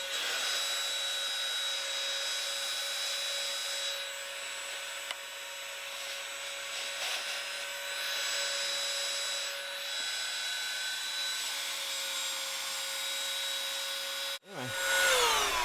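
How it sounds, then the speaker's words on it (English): A handheld vacuum cleaner whines steadily with a high tonal hum while cleaning the engine bay of a BMW with an N55 engine, running loud and close before cutting off near the end. "I think I want to get in here and hit this with a vacuum."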